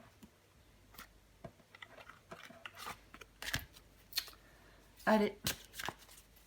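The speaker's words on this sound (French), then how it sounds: "Je vais encore tirer une carte pour vous" Tarot cards are shuffled and drawn from a deck at close range: a series of soft papery riffles and brisk flicks, with a louder burst of shuffling near the end, under a woman's quiet speech.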